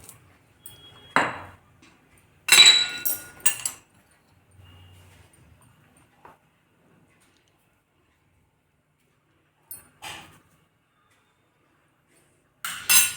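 Salad is tossed with salt in a bowl, with sporadic bursts of spoon clinks and scrapes against the dish separated by long quiet gaps, close by.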